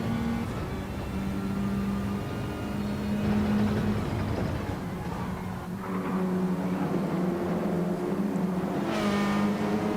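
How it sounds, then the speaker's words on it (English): Race car engines in a GT Champions racing video game lobby race, heard as a steady, sustained drone that wavers in pitch as another car closes in from behind. The engine note is moderately loud and stays continuous throughout. "if we look back, there's a car coming"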